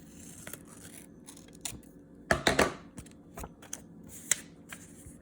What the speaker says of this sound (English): I have some scissors here. I'm going to try to cut it